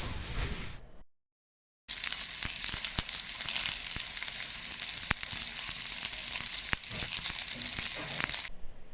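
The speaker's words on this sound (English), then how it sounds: "add some butter and then let that baby sizzle" Butter sizzles and crackles steadily in a hot pan in a Roblox video game, a continuous frying hiss with small pops, after a brief gap of silence.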